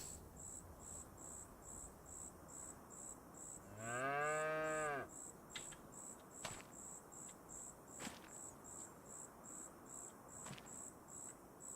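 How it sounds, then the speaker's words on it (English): A cow lets out a single drawn-out moo on a farm in Farming Simulator 25, heard alone over a steady chirping of crickets and a few faint clicks, with no talking. "We watered our cows."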